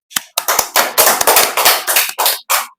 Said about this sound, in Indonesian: Tepuk tangan dulu untuk Mas Malka dan Mbak Dina